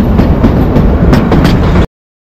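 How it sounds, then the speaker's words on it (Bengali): The Kalka–Shimla narrow gauge toy train rumbles loud and close, a dense steady roar of wheels and carriages with faint rhythmic clatter, then cuts abruptly to silence. "এই কালকা সিমলা রেল একটি ন্যারো গেজ রেলওয়ে।"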